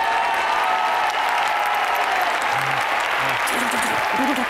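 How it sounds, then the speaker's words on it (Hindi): A live audience applauds loudly and steadily in a hall, broad clapping filling the whole stretch while a few low voices murmur beneath it toward the end. "जोरदार तालियों से और दो बूंद आंसुओं से स्वागत कीजिए"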